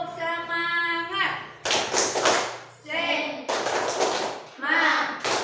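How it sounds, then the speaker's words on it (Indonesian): Schoolchildren in a class perform the rhythmic Indonesian 'tepuk semangat' spirit clap, short loud bursts of clapping alternating with the group chanting in unison between them. "Tepuk semangat."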